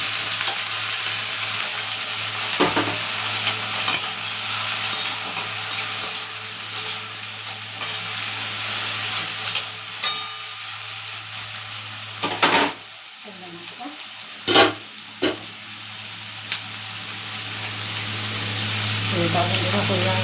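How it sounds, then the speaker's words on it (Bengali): Tangra fish and potatoes sizzle steadily in a pan, with periodic scraping stirs and a few louder knocks of the utensil; a voice is faintly heard now and then. "আলু দিয়ে ট্যাংরা মাছটা করে দিই"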